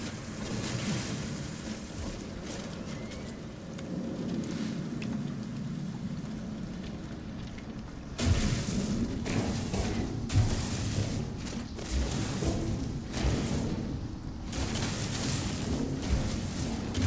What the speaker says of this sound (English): So I will stay here until the storm is over.